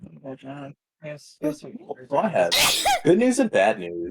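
A sudden, loud sneeze bursts out in the middle of a person talking, with speech continuing around it.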